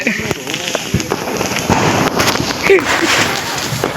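Diwali firecrackers and fireworks bursting in a residential neighbourhood, a dense crackling barrage of pops and bangs with voices talking over it.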